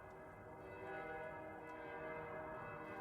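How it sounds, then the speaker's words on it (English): A church-style end of day bell rings steadily and faintly with sustained tonal resonance, heard alone without talk for a few seconds. "it is the end of day bell"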